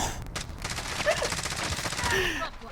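Rapid bursts of gunfire from Call of Duty: Modern Warfare crackle in quick succession against a busy game soundscape, fairly close and steady throughout.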